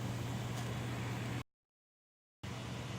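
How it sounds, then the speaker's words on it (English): An air conditioner running in a room, a steady broadband hum with a low drone that drops out completely for about a second and then resumes at the same level. "I've got the air conditioner running at the moment."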